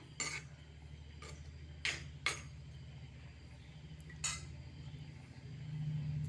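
Fish curry stirred in a cooking pot: a few sharp metallic clinks of a utensil against the pot sound over a low, steady background hum.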